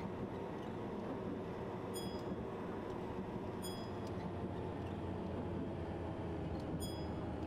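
A train rolls steadily in the driving game Train Drive ATS, a continuous loud rumble of wheels and motor heard alone, with a few brief high squeals or chimes breaking through at intervals.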